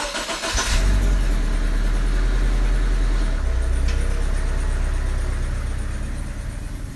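Subaru EA82T turbo engine with Megasquirt MS3x management, cold-started and left idling: a loud, steady low rumble that holds evenly for several seconds with no one speaking.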